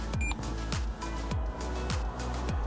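A Ram Promaster van's wireless backup sensor warning alarm beeping in a regular repeating pattern, each tone sliding downward, fairly faint.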